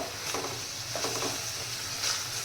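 Peas and corn being stirred in a pan for matar pulao, a soft steady sizzle with light scraping strokes repeating close by, no voices.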